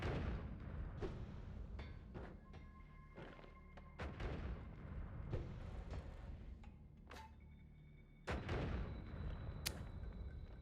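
Explosions and booms in the video game Noita, several sharp blasts and thuds scattered across the scene over a low rumbling background, with a heavier bomb blast near the end.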